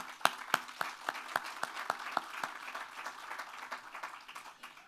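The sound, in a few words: audience applause at groundbreaking ceremony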